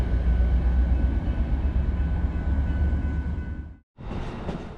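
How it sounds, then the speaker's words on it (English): A GP40 locomotive leads a train on the Danbury branch near Norwalk, a loud rolling rumble and wheel noise passing close, cutting off abruptly, then resuming briefly. "I can never resist getting a shot of these GP40s leading trains on the Danbury branch."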